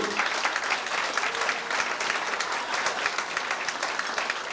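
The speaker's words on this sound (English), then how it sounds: "would you give them a round of applause, please?" Dense, steady applause from a large crowd at a dinner dance in a hotel in Gortahork, Ireland, continuous and fairly loud throughout with no voices standing out.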